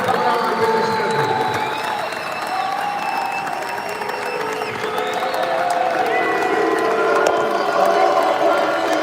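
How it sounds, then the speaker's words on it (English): Crowd applause and scattered cheers rise at a Jacksonville Jaguars pregame members event, a broad sustained wash of clapping with a few whoops, while a voice carries faintly over the noise. "big round of applause for the three here."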